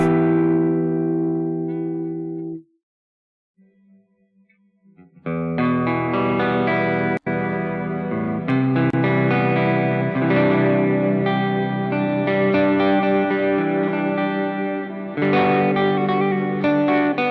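A dry melodic phrase stops, then after a short pause returns drenched in a huge, shimmering ambient reverb that swells and sustains for several seconds.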